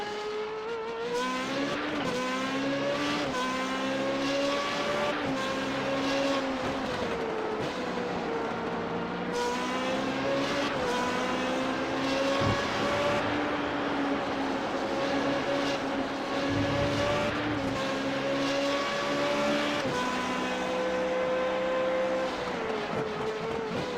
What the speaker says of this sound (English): now, go down to one of our onboard cameras looking out the back of this radar racing machine being driven by Cody Sandwith